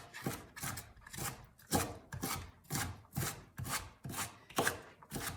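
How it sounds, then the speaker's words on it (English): Knife rapidly mincing small slices of cabbage on a cutting board, a steady run of about a dozen crisp, close chops in even rhythm with no talking. "when I've got the small slices, then I go back through and just kind of mince it up"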